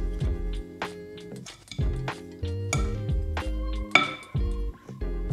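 Spoon scraping and clinking against a bowl while zucchini fritter batter is mixed, giving repeated bright ringing knocks in an uneven rhythm with short gaps between strokes, close and clear.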